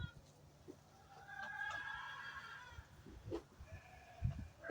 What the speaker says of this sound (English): So Ramaswamy has a smaller flock of ewes, so they won't get as much as the first flock.